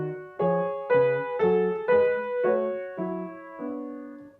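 Measure 24 of Bach's B-minor prelude BWV 869 from the Well-Tempered Clavier, played on a keyboard: a slow, close sequence of eight sustained chords with a moving bass, each struck clearly and ringing, with no talking.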